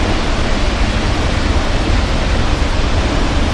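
A Yosemite waterfall roars up close in a dense, constant wash of crashing water, loud and unbroken.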